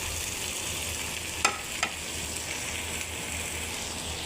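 Bitter gourd and onions fry in a pan with a steady, close crackling sizzle, broken by two brief clattering knocks of stirring partway through.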